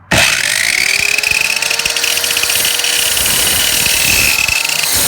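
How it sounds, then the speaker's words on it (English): A loud power saw starts abruptly and runs steadily, its high whine and rough buzzing cutting through wood for several seconds, close and continuous. "you're going to start the saw and you're going to go right through it"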